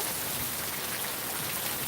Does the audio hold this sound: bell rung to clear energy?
no